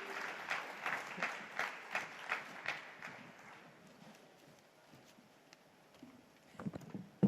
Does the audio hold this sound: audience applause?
yes